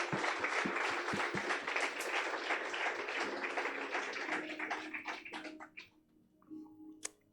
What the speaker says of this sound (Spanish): ¿Cuántos le dan un aplauso a Dios?